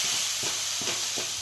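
Curry leaves and spices such as cumin, mustard seed, turmeric and masala being sautéed and stirred in a hot pan, giving a steady close sizzle with about three soft scraping stir strokes, no talking.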